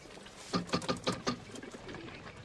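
Pigeons cooing nearby in a short run of soft, rhythmic throaty coos, followed by quieter ambient noise.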